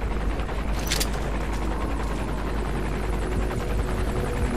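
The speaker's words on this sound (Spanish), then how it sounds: "El puto helicóptero, tío." Helicopter rotor thrum inside the game Metal Gear Solid V: The Phantom Pain, a steady loud droning wash that runs throughout, with a brief sharp burst like gunfire near the start.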